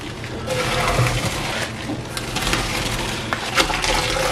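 Water drains steadily from a pot of half-cooked rice parboiled for mutton dum biryani, a continuous rushing, splashing gush close by with no talk.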